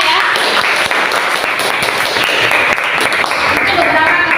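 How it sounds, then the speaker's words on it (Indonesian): Students in a classroom applaud, with steady, dense clapping filling the whole stretch at close range and loud level. "Oke, aplaus untuk kalian semua ya."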